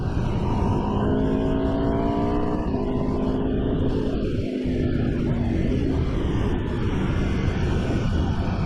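An Aprilia RSV4 motorcycle engine drones steadily while riding at low revs on a road, lugging along with continuous loud wind rush and a faint tonal hum rising and falling across the ride.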